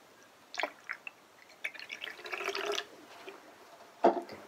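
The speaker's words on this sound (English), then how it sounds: "First, fill your bottle about 1/2 to 2/3 with water." Water poured into a plastic bottle for an ocean-bottle craft, heard as faint splashing and trickling in short bursts with a steadier pour in the middle and a final splash, quiet and close with no talking.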